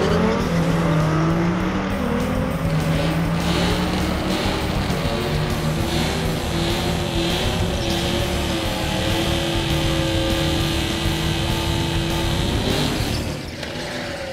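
A modified 2011 Ford Mustang V6 accelerates hard down a quarter-mile drag strip, its engine roaring loud and continuous through gear changes, with rising and falling pitch and tire noise, no voices.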